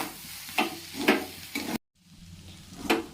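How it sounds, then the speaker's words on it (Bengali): Rice is stirred with soy, tomato and green chili sauces in a pan, giving a few scraping strokes over a soft sizzle, close and quiet, with a brief gap of silence midway. "এরপরে এগুলো একটু ভালো করে মিশিয়ে নেব।"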